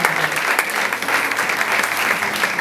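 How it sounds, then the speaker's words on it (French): A church congregation claps together in praise of the word of God, a dense, steady round of applause filling the room throughout, with no voices standing out. "nous allons acclamer la parole de Dieu"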